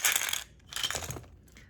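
Dice tossed onto a surface for a fortune reading, two bursts of clattering rattles as they drop and tumble, close and fairly loud, with no talk.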